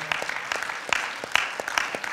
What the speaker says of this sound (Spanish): Dale un aplauso de alabanza a nuestro Señor